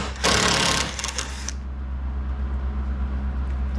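Power tool whirring loudly for about a second as screws are backed out of a car rocker panel before welding, then cutting off to a steady low hum.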